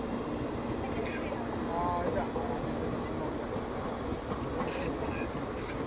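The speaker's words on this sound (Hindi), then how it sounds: "अभी हमारी ट्रेन पहुंच रही है कन्नूर रेलवे स्टेशन" Mangala Lakshadweep Express rolling into Kannur railway station, a steady rumble of wheels and carriages with faint squeals and rattles throughout, heard from on board.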